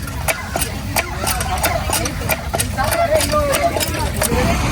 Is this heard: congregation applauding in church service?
no